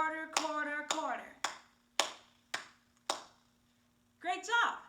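A group claps in a steady quarter-note rhythm, six evenly spaced sharp claps ringing out clearly with a sustained hum beneath, bracketed by a spoken voice at the start and end.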